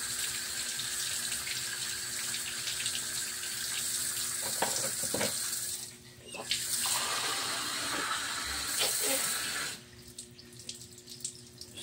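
Tap water runs steadily into a sink during washing, with brief pauses and shifts in the flow, close by and without speech.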